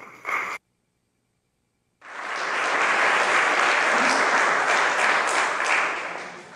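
A lecture audience at UCC breaks into warm applause for Dr. Bart Ehrman, a dense, steady wash of many hands clapping that swells after a brief silence and holds loudly throughout.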